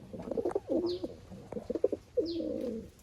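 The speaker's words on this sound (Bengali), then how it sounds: "এটা লালমোহন পেয়ার, খুব ওল্ড ব্লাডের পায়রা" A pair of old-bloodline Lalmohan Giribuz pigeons cooing close by, two rolling coo phrases with soft throaty murmurs between, quiet and clear with no talk.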